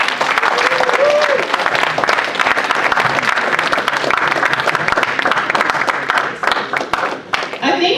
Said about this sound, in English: the clap should resonate throughout this whole hall